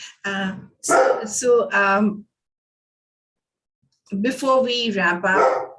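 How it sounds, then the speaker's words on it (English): A pet dog barks in short, repeated bursts close to the microphone, in two groups separated by a pause. A person talks at the same time. "you can hear my dog bark in the background"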